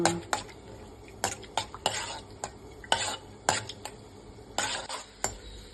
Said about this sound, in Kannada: ದ್ರಾಕ್ಷಿ ಗೋಡಂಬಿ ಸ್ವಲ್ಪ ಫ್ರೈ ಮಾಡ್ಕೊಳ್ಳಿ